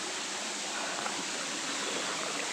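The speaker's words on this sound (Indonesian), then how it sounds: "Inilah dia guys, air terjun." The Ompang waterfall, a tall five-tier cascade in the hills of Tanjung Koto, Kampar Hulu, gives off a faint, even hiss of falling water, constant and unbroken with no voices.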